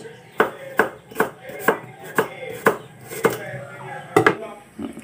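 Ginger and onion sliced on a cutting board for a fish tinola with moringa leaves: a dozen crisp knife knocks in a fairly steady rhythm, close and distinct, with a short quick double cut near the end.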